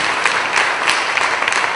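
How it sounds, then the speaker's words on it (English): Brief, steady burst of audience applause at a community singing event in Durham, dense clapping filling the moment without a pause. "Let's have another round of applause for Ryan and praise."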